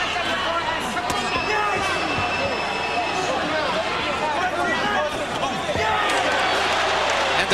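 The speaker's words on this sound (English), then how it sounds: "And the crowd cheers mightily" A boxing crowd at a Naseem Hamed versus Paul Ingle fight, a dense roar of cheering and babble filling the arena, steady throughout, with a commentator talking over it.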